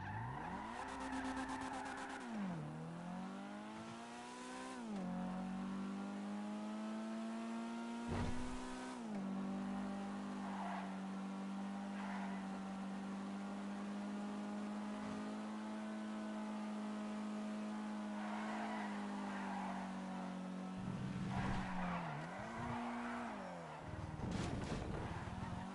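A two-door coupe driven hard in a racing game, engine revving and shifting through gears with repeated tire squeals and skids, loud and continuous with no talking.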